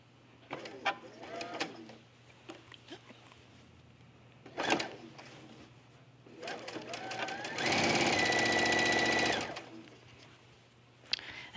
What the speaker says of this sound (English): I'm gonna stitch really close to the edge